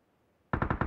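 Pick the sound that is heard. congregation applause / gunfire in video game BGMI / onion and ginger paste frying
gunfire in video game BGMI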